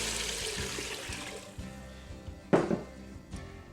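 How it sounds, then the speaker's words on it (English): Shrimp stock is poured into a pan with sautéed celery, onions and andouille sausage, a close, steady splashing gush of liquid with a brief louder splash near the end. "Next we'll add our shrimp stock to the pan."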